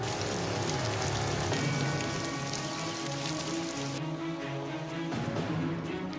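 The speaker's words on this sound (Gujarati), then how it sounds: "ક્યાંક ધોધમાર તો ક્યાંક ધીમી ધારે વરસાદનું આગમન થયું" Steady monsoon rain falls on the rural Aravalli district of Gujarat, a dense, continuous patter of drops on surfaces that stays even and close throughout.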